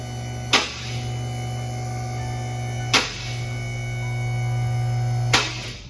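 A vehicle lift rising, its safety lock giving three sharp clicks spaced a few seconds apart over a steady motor hum.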